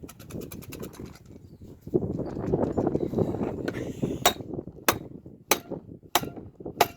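Several sharp metallic strikes from hammering with the back of a survival-kit hatchet ring out near the end, spaced about a second apart, after a stretch of muffled rustling and low rumble.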